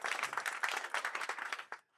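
A few people clapping close by on a podcast set, a quick burst of rapid claps with fast rhythm that stops abruptly at the end.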